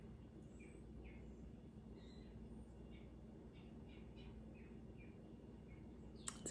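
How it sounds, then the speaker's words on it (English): Birds chirp and call in short, scattered bursts outside an open window on a fall day, faint and distant over a steady low background hum. "Can y'all hear the birds outside singing?"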